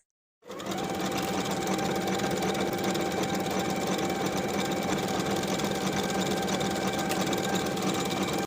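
A sewing machine stitches a sleeve seam with a 3/8 inch allowance, running as one steady, continuous whir close by from start to finish, with no talking.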